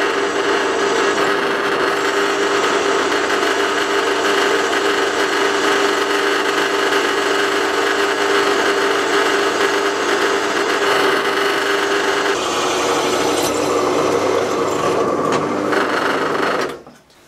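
A Parkside PTBM 500 benchtop drill press bores an 8.5 mm hole through 10 mm steel plate. Its motor gives a loud, steady whine with grinding cutting noise for about sixteen seconds, shifting slightly partway through, then winds down abruptly at the end.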